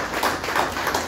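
Applause from the audience at a meeting hall, a brief burst of scattered clapping heard close and moderately loud.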